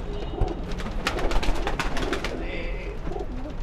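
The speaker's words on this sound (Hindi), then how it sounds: "बहुत ही बेहतरीन कबूतरों का कलेक्शन इन्होंने किया है" Pigeons in a loft coo softly and repeatedly near the listener, with flapping and rustling among the bursts and faint background noise throughout.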